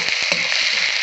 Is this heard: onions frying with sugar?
yes